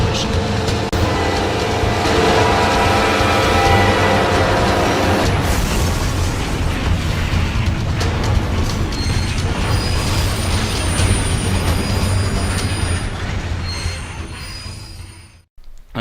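Train wheels squeal and grind loudly during the Hinton collision of a Via Rail passenger train, a dense, continuous metallic roar that holds steady and then fades away near the end.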